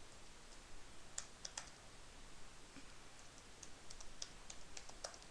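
Code typed on a computer keyboard during a C programming lesson, a quiet, irregular run of light key clicks heard close against a faint hiss.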